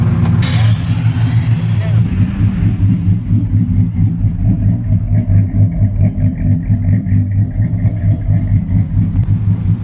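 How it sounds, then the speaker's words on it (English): Modified RAM pickup truck fitted with a cam and custom tune rumbles loudly at close range, a heavy choppy idle swelling with a short rev near the start. "Have I ever shown you what my truck sounds like with a cam?"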